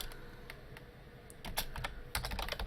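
Quick, uneven keystrokes on a computer keyboard as code for a Minecraft 1.8.9 mod is typed, close and clear, with a denser flurry of clacks toward the end and no talk.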